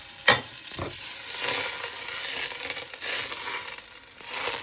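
Butter sizzles softly in a pan, a low hiss that runs throughout, opening with a couple of sharp clinks of a utensil against the pan.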